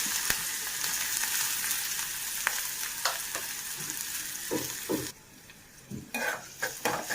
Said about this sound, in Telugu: ఉల్లిపాయ ముక్కలను బాగా ఎర్రగా వేయించుకోవాలి. మూత పెట్టుకొని ఎర్రగా వేయించుకోవాలి.